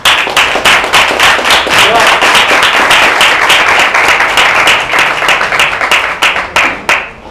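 Loud, dense applause from an audience closing a children's literature event, steady rapid clapping filling the whole stretch and thinning slightly toward the end.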